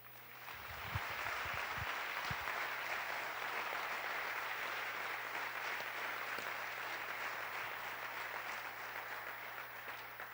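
A church congregation at a historic worship service breaks into sustained applause, a dense even roar of many hands that swells quickly and carries on for about ten seconds with a steady mains hum underneath.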